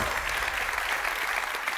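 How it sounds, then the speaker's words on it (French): Audience applause for the sixteen finalists at a national science-communication final, a steady dense wash of clapping filling the room without a break. "On applaudit notre 16e finaliste et tous les 16 finalistes"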